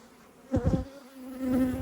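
Honey bees buzz around beehives with a steady droning hum, close to the microphone. A few louder passes swell as individual bees fly near.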